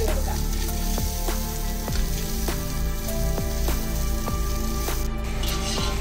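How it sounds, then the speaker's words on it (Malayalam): Soaked, drained rice frying in hot oil with spices for Kashmiri pulao, a steady close sizzle throughout with occasional clicks of a spoon stirring the pan, no voices. "ഇതിലോട്ട് നമ്മൾ 1/2 മണിക്കൂർ കുതിർത്ത് ഊറ്റി വെച്ചിരിക്കുന്ന അരി ഇട്ട് ഫ്രൈ ചെയ്ത് കൊടുക്കാം."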